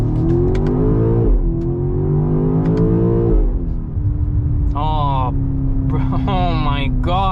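A 2025 BMW X5 M Competition SUV in sport mode accelerates hard, its exhaust droning and rising in pitch through gear changes, loud and close from inside the cabin, with a voice speaking over it.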